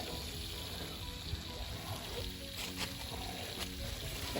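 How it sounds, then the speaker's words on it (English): Leftover fresh water draining from an RV tank through an opened shutoff valve and running onto the ground, a steady faint trickle and splash heard from a short distance. "See all that water that was still in the tank?"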